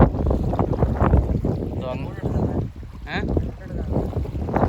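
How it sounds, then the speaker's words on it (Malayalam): Strong, cold morning wind buffets the microphone in loud, rumbling gusts on a fishing outing in Saudi Arabia, with indistinct voices faintly heard beneath the blustery noise. "രാവിലെ ഭയങ്കര കാറ്റാണ് കാറ്റും തണുപ്പും വല്ലാത്തൊരു കാലാവസ്ഥ"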